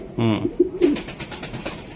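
A racing pigeon coos close by, a low throaty warble followed by a few shorter coos, with faint rustling behind it.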